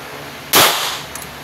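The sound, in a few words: gunshots fired at a shooting range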